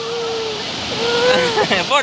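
Floodwater rushes across a bridge in a steady broad roar, with someone talking over it the whole time.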